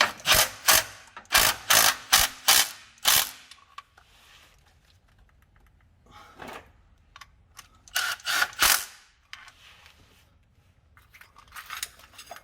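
A tool tightens the oil pan bolts on an Acura Type S. Two bursts of rapid, sharp mechanical clicks come close together, separated by quieter rattles and small handling noises.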